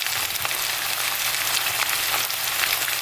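Steak browns in a hot pan for beef stroganoff, giving a loud, steady sizzle and crackle of frying meat without pause and without voices.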